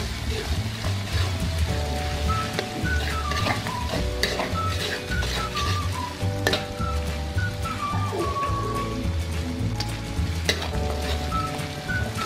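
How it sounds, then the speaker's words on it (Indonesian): Ground spice paste with lemongrass and kaffir lime leaves sizzles steadily in a pan for a beef liver dish in sweet soy sauce, a loud close frying hiss with occasional stirring scrapes throughout. "Kita tumis bumbunya. Kita tambahkan serai dan daun jeruk purutnya."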